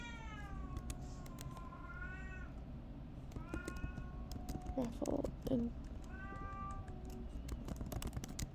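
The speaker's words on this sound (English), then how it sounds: "this is my cat telling me it is definitely time for me to go to bed" A house cat meows repeatedly in drawn-out, rising and falling calls spread through the stretch, heard close by under a person's quiet talk.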